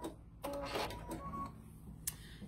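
A sewing machine stitching quilt fabric pieces for a crumb quilt, producing a quiet mechanical whir with short tonal hums and a sharp click near the end.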